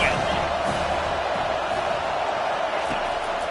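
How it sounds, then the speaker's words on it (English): A stadium crowd at a Utah football game keeps up a constant, loud roar of noise, an unbroken wash of massed voices with a commentator talking over it. "This crowd bringing the energy and noise early."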